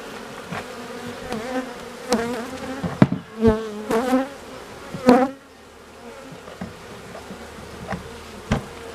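Honey bees buzzing around hive frames as they are lifted out during a June honey harvest from a hive, a steady close swarm drone punctuated by sharp clicks and knocks of the frames.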